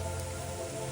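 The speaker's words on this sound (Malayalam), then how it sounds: "മഴയാണ്" Rain falling at a misty hill village in Wayanad, a soft, even patter with a steady hum beneath, faint and without voices.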